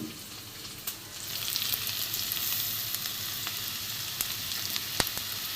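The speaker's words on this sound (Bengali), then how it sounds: "একটু ভালো করে ভেজে নেবো কাঁচা গন্ধটা চলে যাবে" Onions frying in a pan for katla fish-head moong dal, a continuous close sizzle with occasional sharp clicks of a spatula against the pan, no talking.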